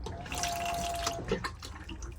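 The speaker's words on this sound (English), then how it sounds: "The flush fluid pumps around literally by pressing this button." Flushing fluid pumping and running water in a Bailey Advance 640 caravan toilet after its button is pressed, a steady close splashing flow with small drips and a faint pump whine.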